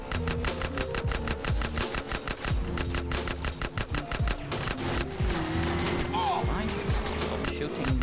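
Rapid gunfire rattles through a Grand Theft Auto: San Andreas shootout in dense repeated bursts, loud and continuous, with engine noise and someone talking over the shots.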